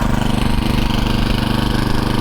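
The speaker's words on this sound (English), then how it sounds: "See the engine's idling without turning the belt." A Troy-Bilt Mustang mower engine idles with the drive belt disengaged, a loud close throb with a fast, even pulse that holds steady throughout, and no talk over it.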